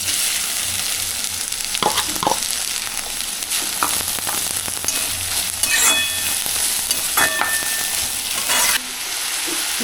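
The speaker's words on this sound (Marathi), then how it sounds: "आणि आता कांदा घालणार फोडणीमध्ये." Finely chopped onion sizzles in hot oil for tempering, a continuous frying hiss broken by repeated scraping and clinking stirs of a spoon against the pan.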